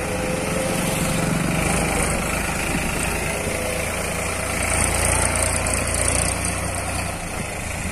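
A large infielder tractor used in sugarcane harvesting idles with a steady, continuous engine drone, close and fairly loud, with no talk over it.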